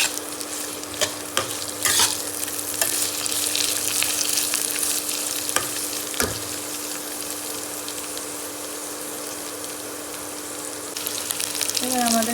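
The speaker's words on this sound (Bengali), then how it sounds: "আর যে ক্যাপসিকামগুলো কুচি করে রেখেছিলাম সেগুলো দিয়ে দেবো। দিয়ে হালকা নেড়ে নিচ্ছি আমরা।" Chopped capsicum and carrots are stirred in a frying pan, giving a continuous sizzle with scraping strokes of the spatula over a steady hiss.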